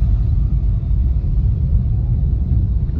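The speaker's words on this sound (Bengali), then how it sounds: "আর এরকম ভাবে গাড়ি যাচ্ছে" Slow, jammed road traffic crossing the Santragachi bridge near Kolkata, with railway lines alongside, makes a steady, continuous low rumble of engines and tyres with no distinct horns or voices.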